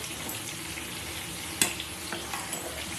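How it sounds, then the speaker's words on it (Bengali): Potatoes fry in a pan with a steady close sizzle, broken by a sharp clink and occasional stirring scrapes against the pan. "এটা আলুটা ভালো করে ভাজা ভাজা করতে হবে"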